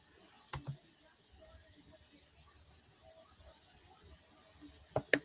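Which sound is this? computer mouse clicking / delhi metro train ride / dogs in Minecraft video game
computer mouse clicking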